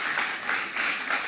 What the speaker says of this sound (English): Big applause for Enrique